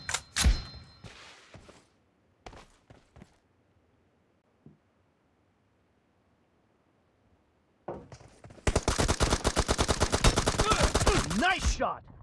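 Gunfire in the mobile shooter PUBG Mobile team deathmatch: a few scattered sharp single shots and thuds early on, a long near-silent gap, then a loud rapid automatic burst lasting several seconds.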